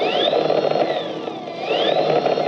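Genesis Tomahawk electric skateboard motor under remote throttle, a steady whine rising in pitch, holding, dipping, then rising again over a steady low hum, close and fairly loud with no talk.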